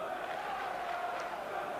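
Steady crowd murmur fills a football stadium at a 1995/96 Charlton Athletic v Wimbledon League Cup second-leg match, a continuous distant roar with no single shout standing out.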